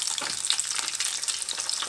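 Tequeños fry in hot oil with the cheese starting to ooze out, giving a dense, steady sizzle and bubbling crackle up close, with no talking.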